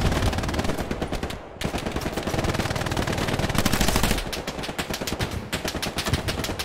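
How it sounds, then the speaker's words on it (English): Machine gun fire in the World War II shooter Hell Let Loose comes in loud, rapid sustained bursts, with one short pause near the start, then renewed rattling fire that continues to the end. "Ah, machine gun. Where's that?"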